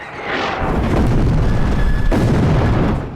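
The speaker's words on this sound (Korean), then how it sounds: "어디선가 날아오는 지원 포격" A supporting artillery barrage in a World War II battle film, heavy booming detonations rolling together into a loud, sustained low rumble with a sharp renewed blast partway through and no speech.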